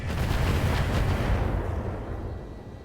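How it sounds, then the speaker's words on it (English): A drone's weapons fire on an enemy mech in the video game RogueTech: a heavy rumbling volley of explosive booms, loud at first and then fading over a few seconds. "Second drone firing on the Orion."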